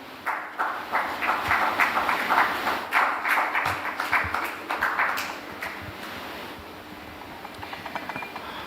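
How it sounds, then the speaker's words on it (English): An audience at a Ugandan agriculture panel session applauds a guest, the Uganda Airlines CEO, with dense, sustained clapping that swells for several seconds, then thins into scattered claps before fading. "So please, can you have some applause over here?"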